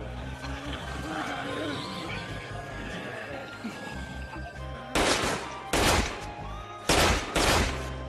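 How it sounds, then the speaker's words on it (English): Several loud gunshot bursts from a real gun in an English-dubbed anime zombie fight ring out in quick succession after a busy, noisy background. "It's definitely a real gun."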